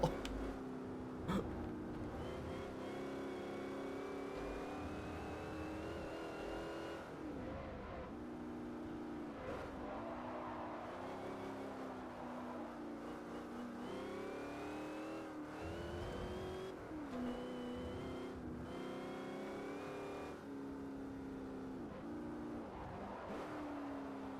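A car engine in the racing game Forza Motorsport 4, a continuous droning motor that rises and falls through gear changes with occasional tire squeal, steady and moderately quiet throughout.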